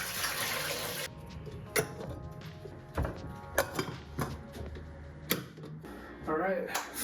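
Rice being washed in water in a home kitchen: sloshing and swirling of grains and water with occasional clinks and knocks against the bowl, fairly quiet and close.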